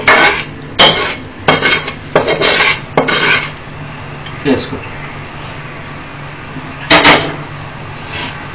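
Spoon scraping and stirring vegetable biryani rice in a metal pot, loud rasping strokes in a broken rhythm close up, with a steady fan hum underneath and someone talking between strokes.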